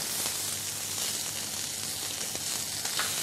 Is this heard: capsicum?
yes